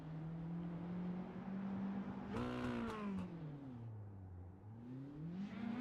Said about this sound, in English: He's going to do some burnouts here on the front straightaway